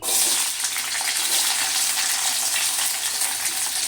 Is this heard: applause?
no